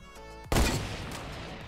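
A single loud shot rings out in the Fortnite video game and decays into a ringing tail, following a moment of quieter tonal game sound.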